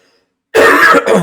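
A burst of harsh throat clearing and coughing after a moment of silence, loud and close, in two quick pushes.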